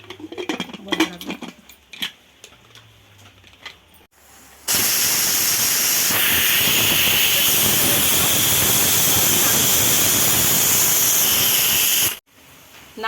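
A pressure cooker of vegetarian bhuna khichuri lets out a loud, sustained steam whistle and hiss lasting about eight seconds, cutting off sharply, after some clattering of pots and utensils.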